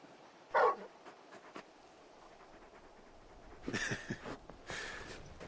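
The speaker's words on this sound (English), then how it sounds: "You're just a big puppy, aren't you? A very big puppy." A very big dog in a video game whimpers and whines in short bursts, with soft snorting breaths between, close and fairly quiet.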